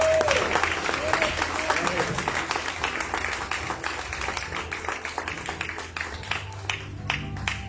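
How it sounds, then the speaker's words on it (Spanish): Church congregation clapping together during a worship service, a dense steady patter with a voice sounding over it early on. "Aplauso al Señor."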